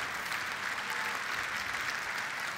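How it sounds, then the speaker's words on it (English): Audience applause for startup competition winners at the Slush 2017 startup event, a steady dense wash of many hands clapping throughout without pause. "One more huge round of applause"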